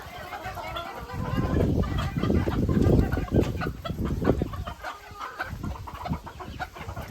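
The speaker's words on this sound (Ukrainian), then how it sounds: "Це півні." Roosters and hens clucking on a small farm, several birds chattering and calling at close range in irregular overlapping bursts, loudest in the middle.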